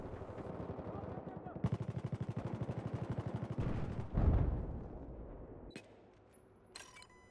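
Sustained automatic rifle fire in a Battlefield 4 multiplayer match on PS4 rattles in an even, rapid stream, then gives way to a heavy, booming blast that fades out, with a voice talking underneath.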